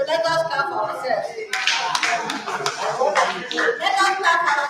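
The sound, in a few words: group applause, people clapping for themselves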